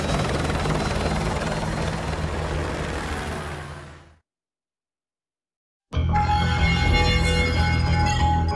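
Military helicopter in the Call of Duty Modern Warfare 2 video game, a loud steady rotor and engine roar that fades out, drops to silence, then returns abruptly at full strength.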